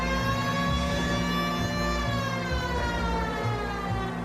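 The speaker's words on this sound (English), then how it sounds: "See if they react to the siren." A police car siren in the video game L.A. Noire wails steadily with rising and falling tones, loud and close, sounding alone over a low engine hum.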